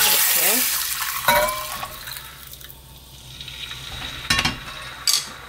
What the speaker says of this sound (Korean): 고춧가루가 끓죠. 그러면 바로 멸치 육수를 넣습니다.